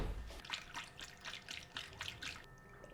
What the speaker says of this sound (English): Now we can start adding coolant.